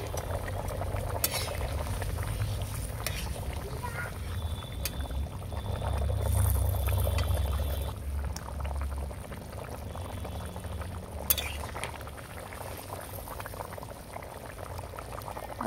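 Potatoes and cauliflower bubble in a covered pot on the stove, a soft continuous boil with occasional gurgles and faint clinks, fairly quiet and without talk.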